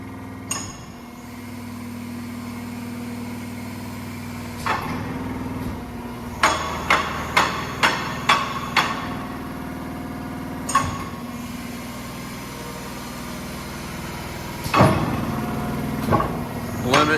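A 62-ton four-post hydraulic press cycles in manual mode, giving a steady low machine hum broken by a series of sharp, evenly spaced clanks and knocks, with a few isolated louder thuds near the start and end.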